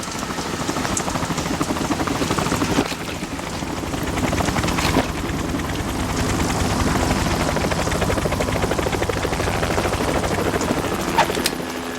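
A helicopter idles in Metal Gear Solid 2 on the tanker, a steady rotor chop and engine drone that holds at a fairly loud level throughout, with a few sharp clanks and no speech.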